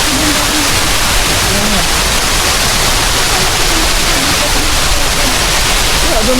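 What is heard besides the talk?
water rushing down into a sinkhole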